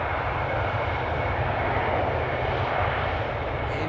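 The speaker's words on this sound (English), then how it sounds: "so that means we're going to see the 777 taxi" Boeing 777 with GE90 engines taxiing at Amsterdam Schiphol, a loud, steady and unbroken jet roar filling the whole stretch at close range.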